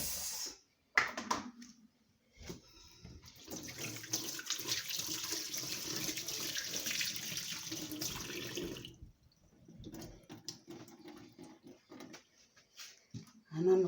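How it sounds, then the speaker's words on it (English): Homemade mango juice pours through a strainer in a steady, quiet trickle lasting several seconds, preceded and followed by brief knocks and shuffling. "And I'm about to strain my mango juice."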